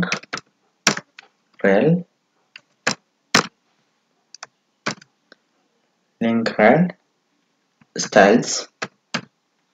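Computer keyboard clicks in short bursts as HTML code is typed, close and crisp, alternating with a person talking.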